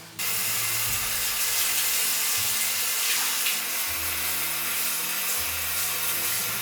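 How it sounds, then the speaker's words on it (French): Tap water runs steadily into a sink, rinsing a scrubbed, orange-brown stained surface, a continuous close hiss with faint low clunks underneath and no talking. "Allez, on va tout rincer maintenant."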